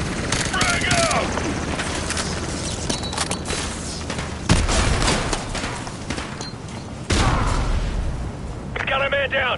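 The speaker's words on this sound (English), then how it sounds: "Engaging full auto. Frag out!" Call of Duty: Modern Warfare 2 Remastered gameplay with dense full-auto gunfire and booming explosions, bursts rattling almost continuously with heavy blasts around the middle and near the end, mixed with game voices.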